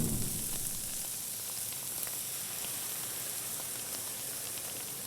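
Cream poured into a pan of curried salmon cooked in olive oil, giving a steady soft sizzle and fine bubbling hiss, briefly louder at the start and then even and moderately quiet, with no talk.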